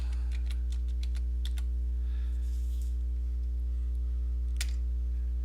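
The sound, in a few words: typing a search on a computer keyboard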